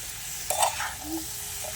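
Taro stolons frying in a pan, a soft sizzle with a brief stir or scrape near the middle, close and quiet over a short stretch without talk.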